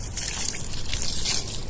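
Water bubbling up and trickling in a small garden pond, a close, continuous gurgling splash with dripping texture throughout.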